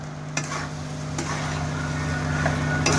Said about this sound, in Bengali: এবার এটা ভালো করে নেড়ে নেব।